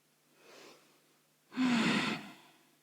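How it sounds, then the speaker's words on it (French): Slow, deep breaths during a yoga session: a faint breath, a pause, then a longer, louder exhale close to the listener, with no talking. "se concentrer sur sa respiration quelques instants."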